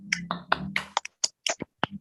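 A tepuk salut clapping chant in a primary school class, a few sharp rhythmic claps in a patterned sequence, close and distinct with short gaps between them.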